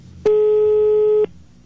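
A telephone busy signal on a Brazilian phone line: one loud, steady electronic tone lasting about a second, heard alone with no talk over it.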